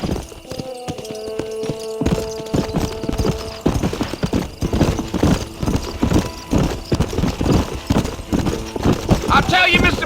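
Horse hooves clip-clop steadily in the Red Dead Redemption video game, a rhythmic trot running through the clip under game dialogue and ambient background sound, with a brief whinny near the end.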